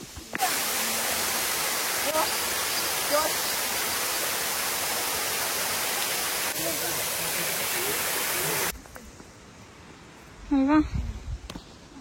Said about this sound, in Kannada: ಅಲ್ವಾ ಫಾಲ್ಸ್ ಇದೆ, ಬನ್ನಿ. ಸೌಂಡ್ ಕೇಳಿಸ್ತಿದೆ.